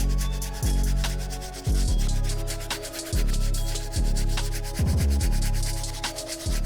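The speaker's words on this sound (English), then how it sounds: "We're gonna give these midsoles a good scrub." A medium bristle brush scrubs the midsoles of rare Deion Sanders sneakers in close, loud, rhythmic back-and-forth strokes, each pass a gritty rasp, with short pauses between bursts and no talking.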